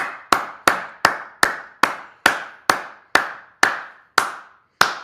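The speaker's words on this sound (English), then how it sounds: "Let me give a slow clap." A slow clap by hands: eleven sharp, evenly spaced claps about half a second apart, loud and close, each ringing briefly in a small room with no talking.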